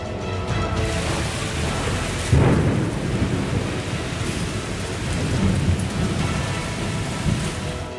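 Heavy monsoon rain pours steadily during a thunderstorm, with a loud roll of thunder breaking in partway through and smaller rumbles later beneath the continuous hiss of the downpour.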